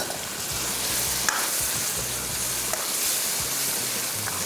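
Karahi gravy frying with green chillies, coriander, dried fenugreek and ginger, a steady close sizzle with a few faint stirring clicks and no voices.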